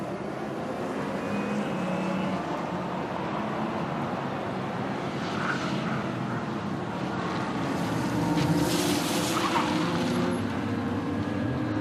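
Race cars, a Viper and Porsches, run at the wet 2007 Nürburgring Nordschleife 24-hour race, heard as a steady blended engine roar with some more distant passes and a louder car swelling by near the end.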